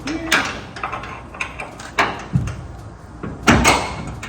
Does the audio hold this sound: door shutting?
yes